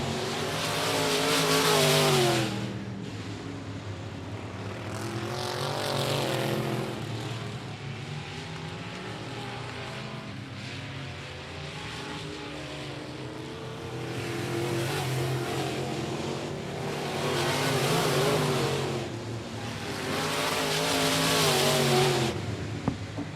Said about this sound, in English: It's still a battle for second as Jamie Campbell has now moved up on the inside of Ryan Doyen with 1 lap to go.